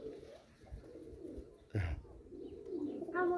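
Pigeons coo softly on a rooftop loft, with a brief louder burst of fluttering or movement midway and a few chirpy calls near the end over faint outdoor background.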